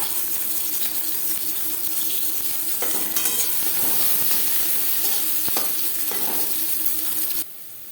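Chopped onions frying in hot oil in a kadai for a katla fish tel jhal gravy, giving a steady close sizzle with occasional stirring scrapes and no voices, before the sizzle drops off at the end.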